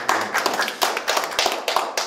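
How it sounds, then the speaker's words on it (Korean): Audience applause at a public forum on Seoul's waste situation and countermeasures, a brief burst of many hands clapping with steady, dense rhythm throughout, fairly close and without talk. "다시 한번 박수 부탁드리겠습니다"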